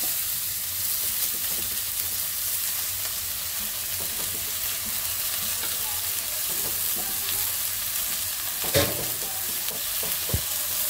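Leafy greens sizzle and fry in hot oil in a pan with garlic, a steady close crackle throughout with a couple of sharper stirring knocks near the end.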